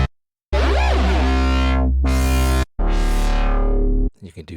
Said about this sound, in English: And then another algorithm of the distortion comb filter.